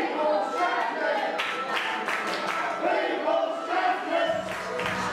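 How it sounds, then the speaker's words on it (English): A wrestling crowd chants in rhythm, a dense roar of many voices with clapping mixed in, loud and continuous throughout. "Now you hear the crowd."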